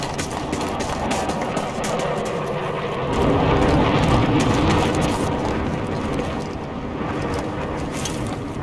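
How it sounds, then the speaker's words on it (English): Battlefield 3 gameplay: an enemy jet roars past overhead, a dense, loud rushing engine wash that swells in the middle and fades, layered over constant battlefield rumble with no talk. "Jet, over. Enemy fast mover spotted, over."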